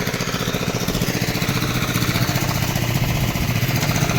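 A small diesel engine on a fishing boat chugs steadily and loudly nearby, its rapid even pulsing continuing alone without pause.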